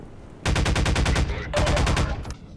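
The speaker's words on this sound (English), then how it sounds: "Oh, they're throwing grenades." Gunfire and explosive bursts during a grenade attack in Half-Life 2, two loud close rapid volleys of repeated shots separated by a short pause.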